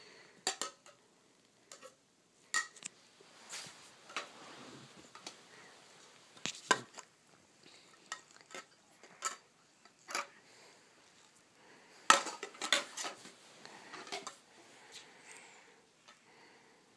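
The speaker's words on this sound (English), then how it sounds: "Is she washing your dishes?" A young child washing dishes, producing scattered clinks and taps of cutlery and dishware at uneven intervals, quiet with sharper knocks standing out.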